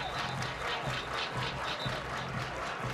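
Stadium crowd at a Minnesota vs Rutgers college football game clapping in rhythmic unison, a broad, even wash of many hands keeping a regular beat.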